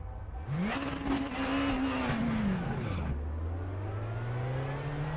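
A Honda race car engine in a racing video game revs hard and rises in pitch, drops as it shifts, then climbs steadily again, loud and continuous with no talking.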